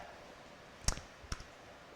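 Two sharp, close keystroke clicks on a computer keyboard come about half a second apart, alone over a faint background hiss.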